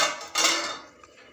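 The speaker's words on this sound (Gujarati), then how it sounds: "ઢાંકણ ઢાંકી દઈશું" A metal lid set down on a cooking pot for a vegetable curry of aubergine, pigeon peas and potato, making a single sharp clank that rings briefly and fades, close and alone.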